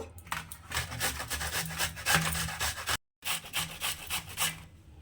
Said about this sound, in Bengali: এইভাবে আমি ঘষে নেব বিটরুটগুলোকে এই দেখুন এরকম করে একটু মিহি করে ঘষে নেব